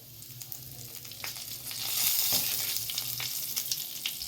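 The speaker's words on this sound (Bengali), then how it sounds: "তেল এদিকে গরম করে নিয়েছি। আর দিয়ে দেবো প্রথমে 5 ফোড়ন।" Five-spice seeds and a whole dried red chili sizzle in hot oil, a close, bright crackling hiss that swells midway and then settles, with light scraping from stirring and no voices.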